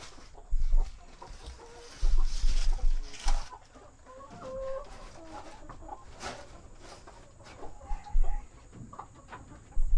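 Chickens cluck close by in a coop fitted with nest boxes, giving repeated short clucks and throaty calls in uneven bursts, some loud and near, with quieter clucking between them and a rustle underneath.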